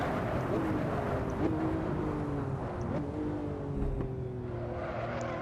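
Porsche 911 Turbo S engine roaring steadily in Assetto Corsa, with a continuous loud droning tone that shifts slightly as the car slows under hard braking.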